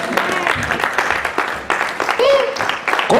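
A church congregation claps and cheers in bursts, with uneven waves of applause broken by brief lulls, voices calling out over the clapping and a speaker's voice partly mixed in.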